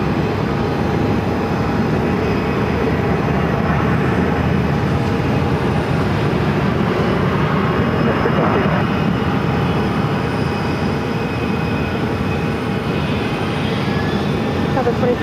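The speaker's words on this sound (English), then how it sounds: "Southwest Flight 2737 coming in from Dallas on a 737-700." A Southwest Boeing 737-700 arriving at Phoenix airport, a steady, loud broadband engine roar that holds throughout with a faint whine above it and no clear rise or fade.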